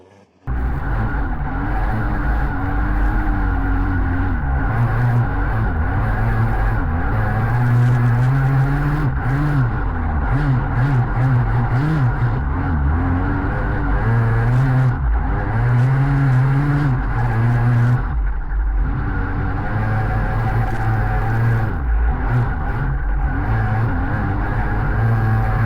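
A go-kart runs a hot lap on an ice track, its small engine droning and rising and falling loudly as it slides through the corners.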